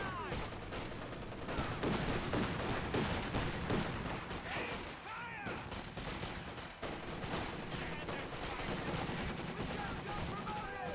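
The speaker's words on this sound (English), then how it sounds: "MG34 suppressing the combat engineer there" MG34 machine gun fire in the strategy game Company of Heroes 2, dense bursts of rapid gunfire and battle noise running throughout, with commentary voices talking over the combat.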